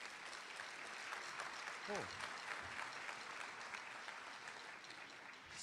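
A school-gala audience applauds students from the École Lévis-Sauvé music program after their urban percussion number. The clapping is dense and steady throughout, and a brief voice cuts in partway.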